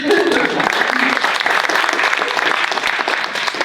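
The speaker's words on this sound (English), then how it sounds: "Yes, you can clap." Loud, lively clapping from an audience at the Make Us Visible Washington launch event, many hands beating quickly and evenly for a few seconds close to the listener.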